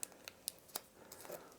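A small plastic bag crinkles softly in brief rustling bursts while a speaker remote control and its accessories are unboxed, faint and close with no talking.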